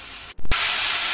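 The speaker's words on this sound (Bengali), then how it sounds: "6 কাপ গরম পানি দিয়ে দিচ্ছি।" Hot water poured over fried rice in a pot for chicken pulao sets off a loud, rushing steam hiss that begins after a brief silent gap and holds steady.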